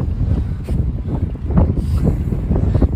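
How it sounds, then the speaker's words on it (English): Gusty wind buffets the microphone, producing low, uneven rumbling bursts that swell and fade throughout. "It's windy."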